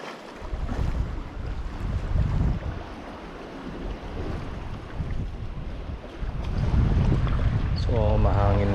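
Strong wind roars across the microphone at sea while squid fishing, with broadband rushing noise and water sounds, while a voice talks intermittently underneath; a tonal motor whine rises near the end.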